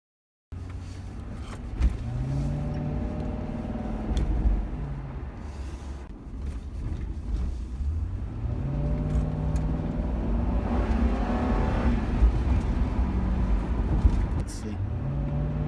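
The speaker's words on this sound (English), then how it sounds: "I'm gonna keep driving a little bit more" Ford Crown Victoria fitted with a K&N performance air filter driving along, a steady engine drone with rising and falling tones as it accelerates and shifts, heard from inside the car.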